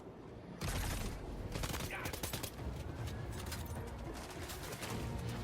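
Rapid gunfire from the video game Death Stranding 2 erupts after a brief quiet start, dense bursts of shots continuing loudly to the end.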